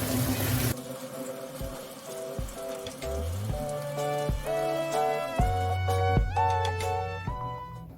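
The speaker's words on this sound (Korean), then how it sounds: "말린 생강 한쪽, 약 3g을 깨끗하게 씻어 준비합니다" A piece of dried ginger rinsed in water, with close splashing, dripping and trickling sounds and watery tones that rise as a bowl or sink fills.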